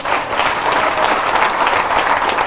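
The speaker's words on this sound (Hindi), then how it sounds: "एक बार ताली बजा दो भाई।" Loud, steady applause from a crowd at a Congress party workers' rally in Beri, many hands clapping together in a dense continuous burst with no voices over it.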